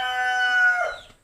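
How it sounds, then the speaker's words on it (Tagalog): Farm rooster crowing once nearby, a loud drawn-out call that rises and then trails off, with nothing else heard alongside it. "Tumitilaok yung ating manok."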